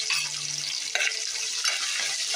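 Onions and peeled garlic sautéing in a pan for an anchovy fish curry give a steady, close sizzle with brief stirring scrapes, and no voices are heard.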